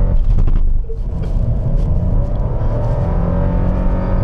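A 2025 Daihatsu Rocky e-Smart Hybrid, built in Japan, accelerating hard: a loud, close, steady engine rumble and drive roar that stays heavy throughout, with no voices over it.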